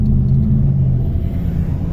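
A 2005 Saturn Ion with a 2.2 L engine and five-speed gearbox drives along, its low engine and road rumble steady and loud from inside the car.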